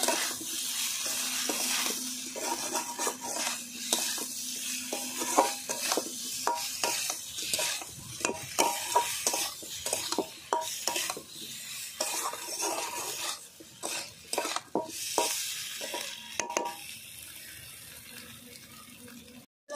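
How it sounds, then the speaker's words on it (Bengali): Potatoes, turmeric powder and salt being stirred and sautéed in a pan alongside prawns, with a low sizzle and repeated scraping of a spoon against metal. "দেবো হলুদ গুঁড়ো, লবণ, ভালো করে কষিয়ে নেব"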